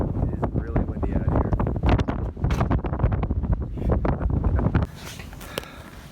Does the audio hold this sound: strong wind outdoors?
yes